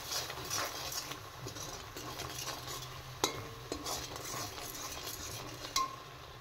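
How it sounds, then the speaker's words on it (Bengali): A spiced mango mixture is stirred steadily in a pot, a continuous scraping and soft sizzling bed with a couple of sharper clinks of the spoon against the rim. "তো আমি সব মশলা দিয়ে দিয়েছি। এখন নাড়তে থাকবো।"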